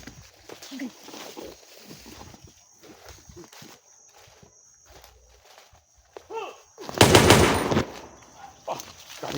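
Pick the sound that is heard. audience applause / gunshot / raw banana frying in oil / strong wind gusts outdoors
gunshot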